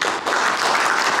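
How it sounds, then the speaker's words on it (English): An audience at a Rode vloggers meet in Mumbai claps in a brief, dense burst of applause that stays steady throughout. "So big round of applause for her,"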